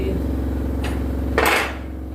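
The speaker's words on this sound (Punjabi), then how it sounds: "ਫਿਰ ਭਾਂਡੇ ਧੋਵਾਂ" Pots and dishes being washed, with a couple of sharp metallic clanks of utensils over a steady low hum.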